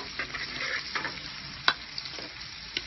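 Chopped onion goes into a pan where garlic is already frying in oil for garlic shrimp, and the pan answers with a soft continuous sizzle, broken by a few sharp clinks and scrapes of a utensil stirring.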